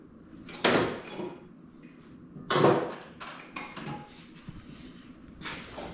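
Drawers slide and thump shut a few times with light metallic clatter, spaced apart in an otherwise quiet room, during work on a 1945 John Deere B tractor.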